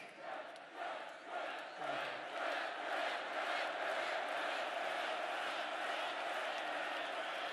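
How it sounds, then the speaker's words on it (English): A crowd at a Donald Trump rally in Allentown, Pennsylvania cheers and shouts in a dense, steady roar that swells in the first seconds and then holds loud and continuous. "This is a feisty little crowd, isn't it?"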